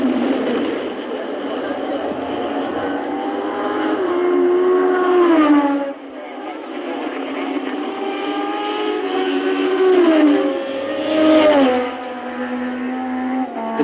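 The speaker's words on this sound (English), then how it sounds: "Strange noises are coming from Lauda's engine." A 1975 Formula 1 car engine in the racing game Assetto Corsa at the Belgian Grand Prix at Zolder, loud and close, with a high sustained whine that rises through the gears and dips twice on downshifts.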